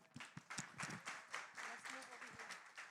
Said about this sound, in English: let's all please share in a round of applause